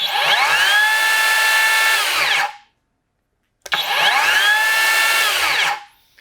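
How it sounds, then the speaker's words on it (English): A Skilsaw cordless worm drive circular saw makes two loud, close cuts, each a high whine that spins up, holds and then winds down, with a brief quiet gap between them. "I feel like the saw is a little higher pitched than the brushed version and a little louder."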